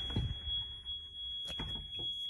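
An RV's warning alarm beeps for lights left on as the engine shuts down, a steady high electronic tone holding throughout alongside low engine rumble and a few clunks, close and fairly loud.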